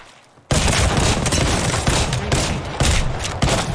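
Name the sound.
gunfire in Apex Legends video game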